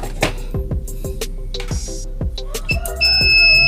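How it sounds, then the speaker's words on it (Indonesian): A continuity tester buzzer is checked against the panel ground of a 43-inch Samsung plasma TV. A run of sharp clicks from probing ends in a steady, high electronic tone that sounds briefly and clearly. "Kita cek ini dan ini nyambung apa enggak pakai buzzer"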